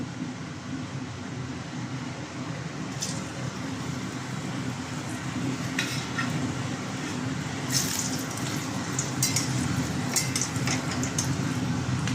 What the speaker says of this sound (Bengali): ভেজে নিতে হবে, আমি যেরম ভাবে ভাজছি